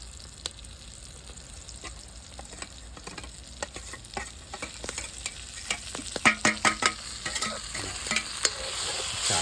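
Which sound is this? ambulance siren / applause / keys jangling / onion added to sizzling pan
onion added to sizzling pan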